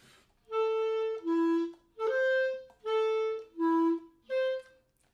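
Bb clarinet played with a pinched embouchure, six sustained notes alternating between two pitches with audible gaps where the legato breaks, close and alone without talk.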